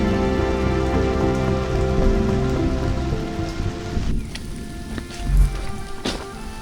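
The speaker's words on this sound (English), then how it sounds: "It's still raining." Steady rain pours down on the Violet Crown Trail, a dense continuous patter on leaves and ground with a few louder close drips near the end, heard alone with no voices.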